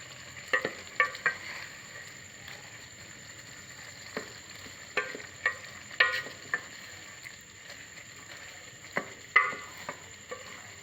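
Boiled beef pieces and lentils cooking down in a pot until the water dries, soft sizzling bubbling with scattered stirring scrapes and clinks of a spoon against the pan, close and moderate.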